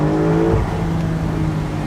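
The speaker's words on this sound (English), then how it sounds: "Wow, it's got that Porsche sound. It does have it. The exhaust it's a little underwhelming." A Porsche 911 Carrera convertible accelerates, its engine and exhaust producing a steady, loud tonal drone that rises slightly and then holds, close and continuous with no voices over it.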